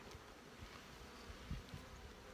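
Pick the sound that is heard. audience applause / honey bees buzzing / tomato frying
honey bees buzzing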